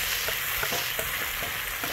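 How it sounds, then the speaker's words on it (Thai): Red curry paste frying in hot oil, a bright steady sizzle with faint stirring scrapes ticking through it, close and alone. "นี่น้ำมันเริ่มร้อนละก็ใส่พริกแกงลงไป"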